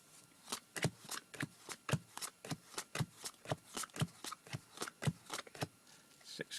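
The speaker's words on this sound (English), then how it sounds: "you're going to shuffle up the cards" A deck of Stak Bots game cards being shuffled close up, with a steady run of crisp riffling bursts and flutters repeating roughly every third of a second, with no voices.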